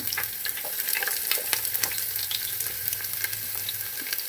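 Garlic, ginger and green chilli frying in a pan for beef fry, a steady close sizzle broken by quick scraping stirs and light clicks, no voices.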